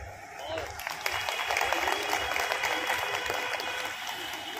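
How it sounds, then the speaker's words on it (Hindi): An audience at an Eid gathering of Anjuman-I-Islam claps together, a steady moderate patter of many hands lasting the whole stretch, slightly distant, with murmured voices beneath. "ताली तो बजी।"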